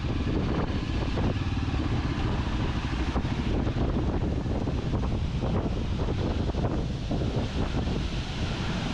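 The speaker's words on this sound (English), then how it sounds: "The beauty of the fall is in its intensity, the water thundering and setting off a cool mist" Paleshwar waterfall thunders in a loud, unbroken roar of falling water throwing off a cool mist, with gusts of wind buffeting the microphone close by and no voices.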